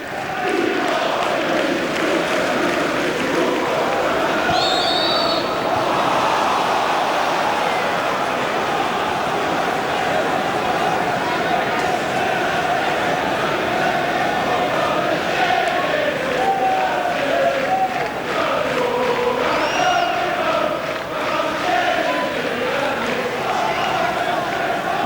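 A 21,000-strong football crowd at an Ipswich Town versus Birmingham City League Cup semi-final first leg, a steady loud roar of voices and chanting that holds throughout under commentary.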